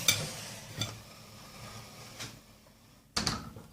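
Caramel pudding mixture being stirred in a pot on a stovetop, with a few scraping strokes of the spoon against the pot and soft clatter, close and moderately quiet, with no talking.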